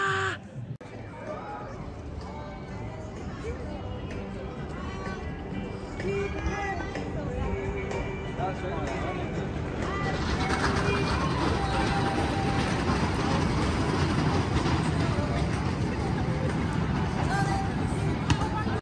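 Grizzly wooden roller coaster at Kings Dominion running old PTC trains: a continuous rattling rumble of the cars on the track under riders' chatter and shouts, growing louder and rougher about halfway through.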